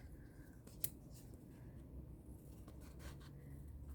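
A single crisp snip of scissors cutting paper, followed by a few softer rustling cuts over a low background hum.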